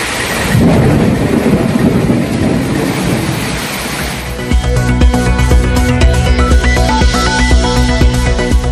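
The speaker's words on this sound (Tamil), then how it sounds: "விருதுநகர் மாவட்டம் ஸ்ரீவில்லிபுத்தூர் சுற்றுவட்டாரங்களில் 2 மணி நேரம் கொட்டிய கனமழை." Heavy rain pours over the Srivilliputhur area of Virudhunagar district, with a dense steady hiss and a deep rolling rumble of thunder that continues under the downpour, loud throughout.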